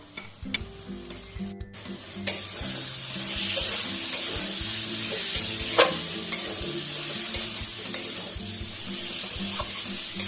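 Fried potatoes are stir-fried in a ginger-garlic spice paste for a tengra fish curry with eggplant, giving a steady close sizzle broken by sharp spatula scrapes and clacks against the pan.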